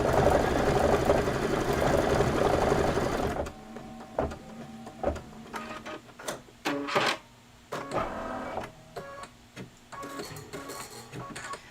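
An embroidery sewing machine stitches a vinyl tack-down line for a heart on a table topper, humming loudly and continuously at first, then breaking into quick stop-start bursts of needle clatter and clicks.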